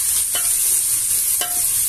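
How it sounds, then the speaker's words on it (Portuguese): Garlic and onion frying in a pan for a rib rice dish, a steady dense sizzle with two brief clicks of a utensil scraping the pan. "E vamos fritar o alho e a cebola."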